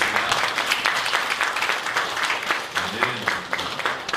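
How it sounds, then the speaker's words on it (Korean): A church congregation applauds during a Sunday service, a full, continuous wash of clapping from many people that fills the room, with faint voices mixed in beneath it. "오늘 서로를 격려하고 하나님께 감사하며 영광의 박수를 드리겠습니다."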